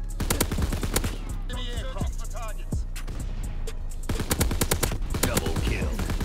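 Rapid automatic bursts from the KG M-21 rifle in Call of Duty WW2 multiplayer, loud and close, firing in repeated volleys with short pauses between them, plus in-game effects and a voice briefly speaking.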